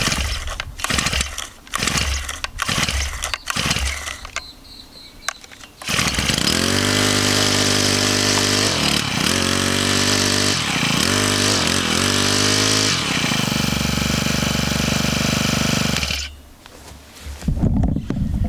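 A Honda four-stroke brushcutter, brand new out of the box, is pull-started with the choke on: several sharp cord pulls, then the engine catches and runs loudly up close, revving up and down before cutting out near the end.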